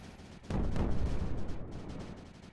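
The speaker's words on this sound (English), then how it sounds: "One mortar helping. Second mortar should help. Third mortar would be better." Mortars firing in the strategy game Creeper World 4, a dense run of booming launches that thickens sharply half a second in and then rolls on as a steady, loud barrage.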